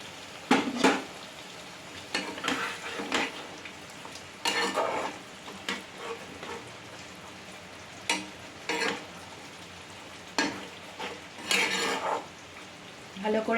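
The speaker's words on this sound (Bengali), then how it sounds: "এই যে দেখুন ফুটছে" Boal fish curry with green chillies and a little hot water cooking in a pan on a gas stove, a steady soft bubbling and sizzling broken by repeated clinks and scrapes of a spoon stirring.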